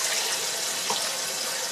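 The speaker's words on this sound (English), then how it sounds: "So I'm going to add water up to quarter size of the jar." Water pours steadily into a glass jar packed with pork for pressure canning, a continuous close splashing rush with no voices.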